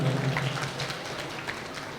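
Audience applause for Kaikottikali dancers at an Onam celebration in Kerala Samajam Ulwe, a steady, moderately loud wash of clapping from a crowd that holds through the short stretch.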